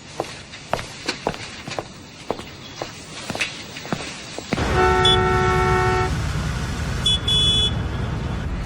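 Footsteps click along for several seconds, then loud car horns blare in traffic, one long sustained honk followed by a shorter second blast over a dense rumble of street noise.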